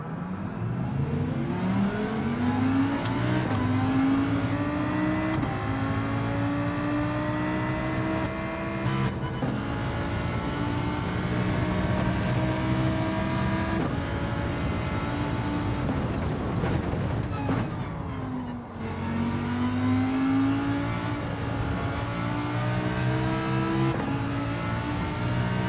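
A race car engine in Gran Turismo 7 runs on racing medium tyres, droning loud and close as it climbs through repeated rising gear pulls, with one brief lift and gear change before the revs build again, and no talking.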